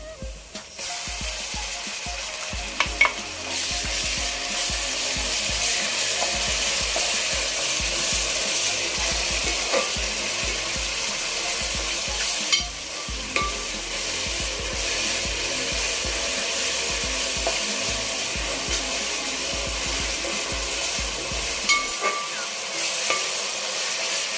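Ginger garlic paste fries in hot oil for a fish curry, a continuous loud sizzle with scraping spatula strokes and occasional knocks against the pan throughout.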